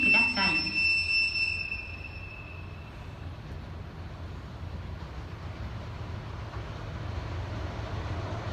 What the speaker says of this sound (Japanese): 2番線を列車が通過いたします。